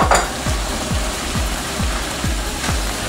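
Mushrooms, leaves, paprika and cumin frying with meat and carrots in a pot for bigos, a loud, steady sizzle with regular rhythmic thumps of stirring about every half second.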